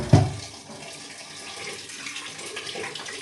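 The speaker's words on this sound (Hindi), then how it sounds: "दाल को जो है ऐसे धो करके इसमें पानी डाल के" Tap water running steadily into a vessel while lentils are washed in a home kitchen, a continuous splashing flow after a brief knock at the start, with no talking.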